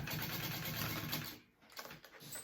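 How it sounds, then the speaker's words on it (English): A home sewing machine stitches a basting line to hold a pocket down, a fast steady whir that stops briefly and then resumes in short uneven bursts. "she doesn't say to baste this part down, but I'm going to. Just right along here."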